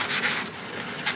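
Clear coat on a Stratocaster guitar body is hand sanded with light pressure, a close, brief series of soft rasping strokes.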